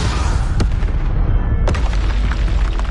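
Confringo spell explosions in Hogwarts Legacy, a loud continuous rumble of booms with two sharp blasts punching through, about a second apart.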